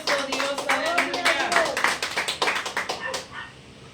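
A church congregation claps in rapid, dense rhythm, loud and close, with voices and shouts mixed in before the applause thins out at the end.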